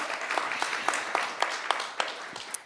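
A small group at a literature festival event claps in a short burst of scattered, uneven applause, fairly close and modest in volume.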